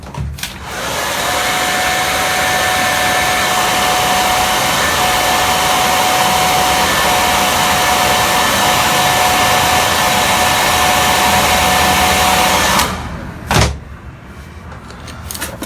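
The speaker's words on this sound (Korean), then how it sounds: "여기다가 드라이기를 좀 써주세요" A hair dryer blows steadily and loudly for about twelve seconds, heating the screen of a Xiaomi Redmi Note 6 Pro phone during a repair. It then shuts off, leaving a faint bump and quiet handling noise.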